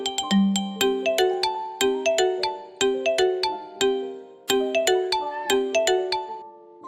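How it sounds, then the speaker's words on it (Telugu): A phone ringtone plays alone and loud: a bright, repeating melodic pattern of chiming notes in quick succession, cycling for several seconds without any voices. "అదో ఇలా ఫోన్ చేస్తాను"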